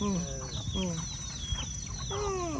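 Farm chickens cluck and squawk in short repeated bursts at close range, with ducks also kept nearby, over a continuous background hum.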